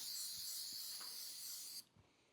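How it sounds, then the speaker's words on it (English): Spray adhesive hisses steadily from an aerosol can for nearly two seconds, close and fairly quiet, then cuts off abruptly, leaving a few faint taps and handling sounds. "Again, I'm just going to take and spray it. Get a nice even coverage."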